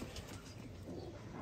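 Sialkoti breed pigeons coo softly in a loft, a low faint murmur of cooing with a steady background hiss.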